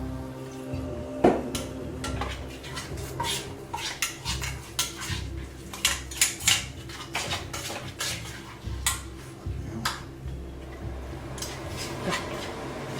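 Herbal poultice paste being mixed in a bowl, a close series of irregular clinking, scraping and tapping strokes from the utensil against the bowl, with no talking.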